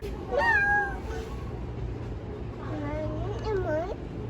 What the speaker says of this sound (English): this black cat on top of books. She just kept meowing and meowing.